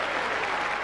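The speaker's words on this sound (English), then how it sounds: "I want a nice little round of applause." Applause from a crowd at a snooker trick shot exhibition, a dense, steady clatter of many hands clapping throughout a brief burst.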